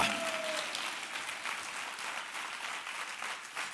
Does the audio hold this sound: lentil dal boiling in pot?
no